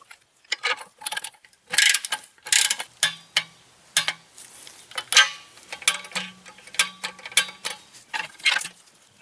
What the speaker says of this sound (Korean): 밑에 가서 그 촉매 브레켓에 연결된 두 개 10mm 너트를 토크 체결하겠습니다